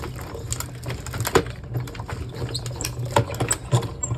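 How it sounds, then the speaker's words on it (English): A die-cutting machine rolls a Boo Bucket craft die through with acetate, giving a close, steady mechanical hum and grinding with irregular clicks and knocks as it is cranked back and forth. "I'm putting it right here on my machine, and we're going to run it through."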